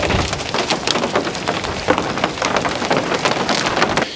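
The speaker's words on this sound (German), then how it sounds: "Aber was haben wir? Schnee und Hagel." Hail and snow pelt a greenhouse roof in a rapid, dense rattle of sharp ticks, steady and fairly loud throughout, with no voices.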